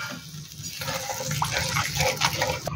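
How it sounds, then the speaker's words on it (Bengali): Water poured into cooking masala in a pan, a close, continuous splashing and sizzling pour over a steady background hum. "এবার এতে দেব পরিমাণ মতো জল।"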